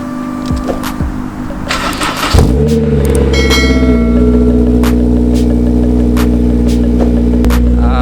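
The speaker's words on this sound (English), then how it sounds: "let's get a cold start up on the S2000" A Honda S2000 cold start: a short cranking whir, then the engine catches sharply and settles into a loud, steady high idle with a constant droning hum. No one speaks.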